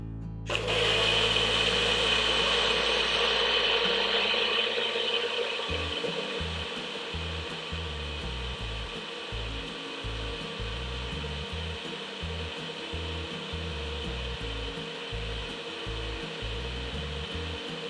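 A mixer grinder whirs loudly and steadily as it grinds peppermint leaves with lemon juice, starting abruptly and holding an even motor drone with a rhythmic low chugging through most of the run.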